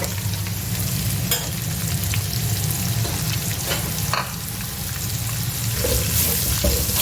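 Chopped onions, four large ones, fry in a pan for Shinwari chicken. The sizzle is loud and constant, with a low rumble under it and occasional bursts of crackle. No one speaks.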